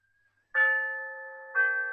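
Chimes ring out twice, each a clear struck tone that rises suddenly and sustains with a bright, steady ring, the second strike about a second after the first, in an otherwise quiet setting.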